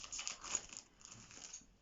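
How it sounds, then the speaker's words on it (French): Scissors snipping and tearing through tape on a well-taped parcel, a quiet run of crinkly cutting and ripping over about two seconds, close by and without talk. "je vais prendre des ciseaux pour ouvrir parce que là, ils ont bien scotché"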